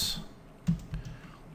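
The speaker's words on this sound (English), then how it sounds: "here let's type collapse" Two or three quick, close keystrokes clack on a computer keyboard while web code is typed, short isolated clicks over a quiet room.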